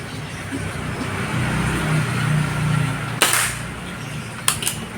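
A sharp Marauder air rifle shot firing an SW Pro Hunter pellet cracks once, followed a second later by a fainter metallic tick of impact on the target, over low background hum.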